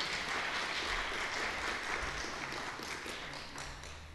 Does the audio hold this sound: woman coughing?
no